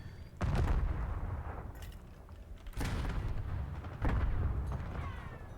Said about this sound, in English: A few more stuns and nades go out